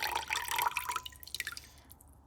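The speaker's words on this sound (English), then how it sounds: "And now I'm just going to remove most of this water." Water poured off dragon fruit seeds in a bowl, a trickling, dripping stream that thins into scattered drips and fades toward the end, quiet and close.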